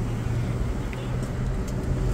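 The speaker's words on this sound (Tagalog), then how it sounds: "Traffic." Steady street traffic rumbles along a roadway beside a pedestrian, a continuous low broadband roar of passing cars and buses with no clear breaks.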